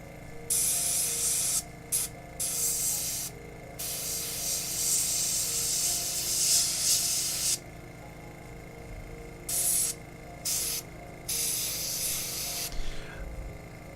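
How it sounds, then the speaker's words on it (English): An aerosol spray paint can hisses into the mouth of a WizKids Beholder miniature in several close, loud bursts of varying length, separated by short pauses over a faint low hum. "So we'll spray this in his mouth."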